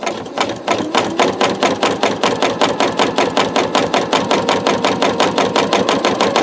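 A sewing machine stitches knit fabric in a fast, even, loud mechanical chatter that stays steady and close after a brief start-up.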